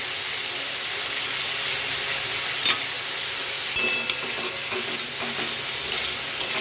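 Taro slices frying in a pan with crushed green chili and garlic give off a steady, close broadband sizzle, with a few soft clinks and stirring scrapes on top and no one talking.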